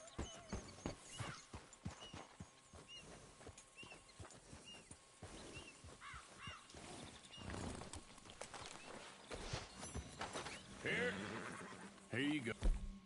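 Horse neighs and clip-clopping hooves in the video game Red Dead Redemption 2 come through in short bursts among game sounds, with someone talking over much of it.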